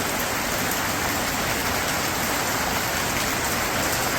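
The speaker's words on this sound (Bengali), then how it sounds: "তো যে এইরকম মাফিক বৃষ্টি নামছে" Light rain falls in a steady, even hiss, loud and continuous throughout, with no voices.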